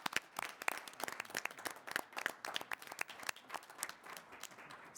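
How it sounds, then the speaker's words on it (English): A round of applause in a college board of trustees meeting room, dense overlapping claps from a small crowd, steady and fairly close, without talk. "Could we just give a round of applause to these folks that do"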